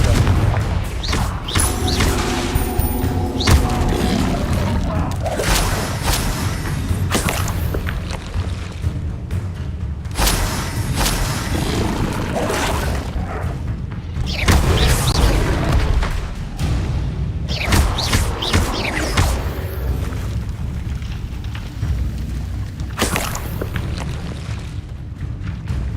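Repeated booming spell blasts from the Confringo fire spell in Hogwarts Legacy on PS5, loud bursts and thuds layered over continuous game music and effects, with no clear pauses between impacts.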